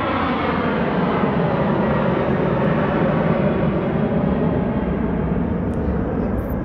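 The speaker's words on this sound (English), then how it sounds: "We do have airplanes passing over because we were right by the airport." A loud, steady aircraft engine roar fills the whole stretch, a continuous broadband rumble of a plane passing low overhead near an airport during a snow storm.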